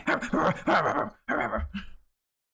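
A person mimics a dog with their voice, giving two quick runs of yappy, whimpering barks that stop abruptly into silence. The sounds are near and fairly loud.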